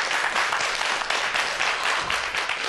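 A studio audience applauds steadily, a dense, even wash of many hands clapping at close range throughout, with no voices over it.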